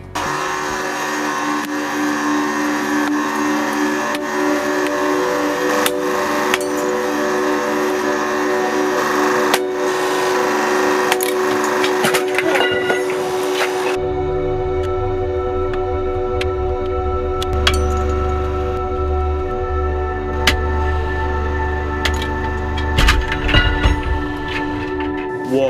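A hydraulic press slowly crushes a motorcycle helmet, a steady mechanical hum and whine running throughout, with sharp cracks and snaps from the shell and a deeper rumble taking over partway through as the pressure builds.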